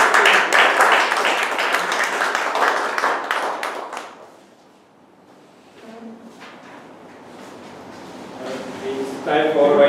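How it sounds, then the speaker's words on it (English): A meeting audience bursts into a short, steady round of clapping that dies away after a few seconds, followed by quiet and then a voice speaking. "A big round of applause."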